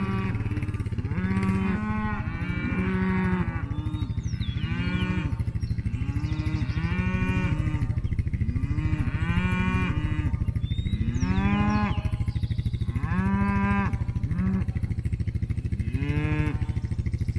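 A herd of cattle moos repeatedly while following a four-wheeler into a paddock on a farm, with overlapping calls from several animals over a steady engine drone.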